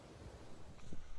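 Outdoor wind buffeting a bare microphone with its furry windshield removed, a steady low rumble with soft gusty swells across a brief stretch, no voices.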